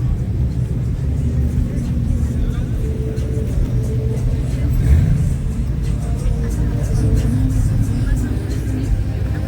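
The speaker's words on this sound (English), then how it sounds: "And the rev bombing again." At a large car meet, cars rev-bomb their engines in a continuous loud rumble with a swelling rev midway, heard amid crowd noise and a person talking over it.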